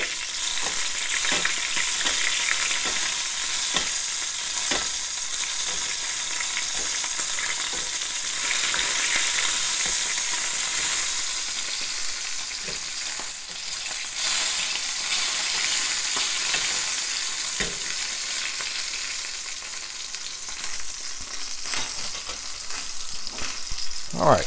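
Chicken breast sears in a hot pan, a dense steady sizzle and spatter lasting throughout, with occasional clinks and scraping as fat is spooned over the meat to baste it.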